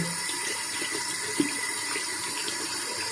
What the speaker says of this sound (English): Rinse it, rinse it.